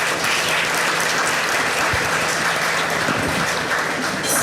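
Audience members at a county discussion give a hand clap, a continuous, evenly sustained wash of applause with no voices standing out.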